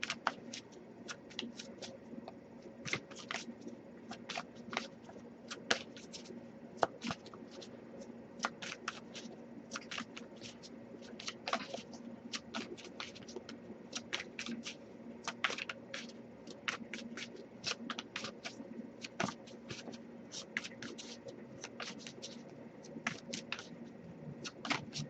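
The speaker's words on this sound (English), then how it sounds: "I'll give it a couple more shuffles" Tarot cards shuffled by hand at close range, quiet repeated riffling flutters in short bursts with brief gaps, steady over a long stretch and free of talk.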